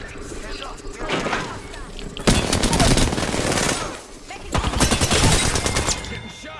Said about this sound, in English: Getting shot at.